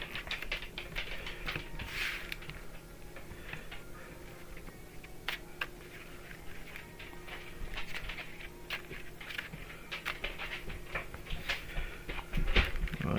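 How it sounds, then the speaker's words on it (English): A commander deck of cards being shuffled quickly, a dense run of soft riffling flutters and light taps, close and fairly quiet with no talking. "We'll just do a very quick shuffle."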